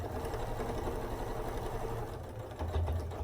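Sewing machine stitching a scrap quilt, running steadily and close for the whole stretch with a brief louder burst near the end.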